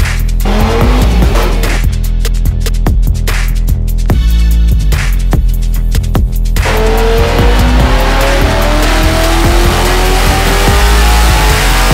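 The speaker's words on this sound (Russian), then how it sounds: "То есть этот мотор сейчас выдает всю свою мощность, которую может." A 535 hp car engine with about 700 Nm of torque revving at full power, loud and close, with sharp throttle blips that give way to a long rising wail as it climbs through the revs.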